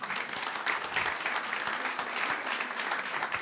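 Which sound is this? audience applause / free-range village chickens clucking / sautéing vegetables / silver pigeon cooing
audience applause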